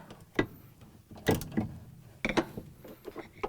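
A 1/2 inch socket wrench loosening the drive motor bolts on a Maytag washer, giving a few quiet, irregular clicks and ratcheting ticks spread across a few seconds.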